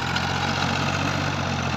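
A FiAT 450 tractor engine idles steadily at close range, a continuous loud diesel chug with even vibration and no voices.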